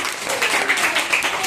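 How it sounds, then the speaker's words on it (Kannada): Loud, dense applause from a group of schoolchildren during a classroom word-reading activity, with steady clapping and no clear pauses. "ಜೋರಾದ ಚಪ್ಪಾಳೆ"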